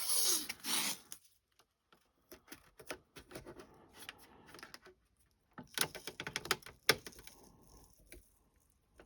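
Strips of tape are pulled, torn and pressed onto a plastic 1:96 Revell USS Constitution model ship hull, giving sharp crackling rips at the start and again midway, with scattered faint taps and rustles between them.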